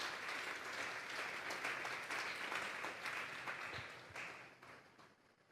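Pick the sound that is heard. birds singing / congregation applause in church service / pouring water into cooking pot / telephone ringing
congregation applause in church service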